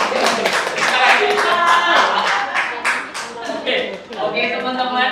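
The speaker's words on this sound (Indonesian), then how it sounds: "Tepuk tangan untuk ketidakjelasannya." A room full of people claps in a brisk burst during a public speaking session in Hong Kong, loud and close, with some voices mixed in as the clapping tapers off.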